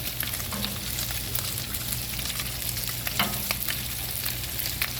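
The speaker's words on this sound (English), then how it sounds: "These bacons are almost done." Bacon strips frying in a pan, a steady close crackling sizzle with dense popping spatter that runs evenly throughout, joined by a low steady hum.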